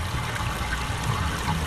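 Water flowing through a pipe in Myst Remake, a steady rushing, gurgling stream that runs continuously and fairly loud, with no voices.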